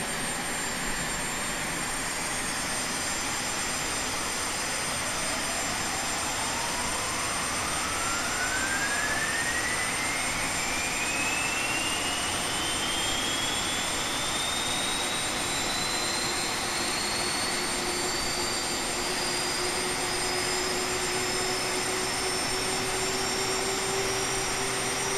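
A Boeing 737's jet engine spools up in the X-Plane 10 flight simulator, a steady rushing whine climbing smoothly in pitch over many seconds above a constant broadband roar, heard alone.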